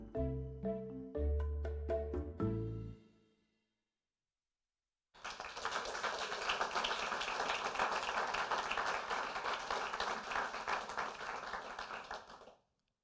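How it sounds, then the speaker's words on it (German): A short chiming musical jingle plays first, then after a pause an audience at a fellowship program event breaks into sustained applause, many hands clapping in a dense, steady roar for several seconds before it cuts off. "Der Applaus gebührt vor allem Chris und Hanna"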